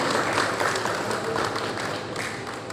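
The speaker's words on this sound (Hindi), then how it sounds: "चलिए जोरदार तालियां." Audience applause at an Industrial Business Association event with Yatharth Hospital, a dense, sustained clapping that stays steady throughout.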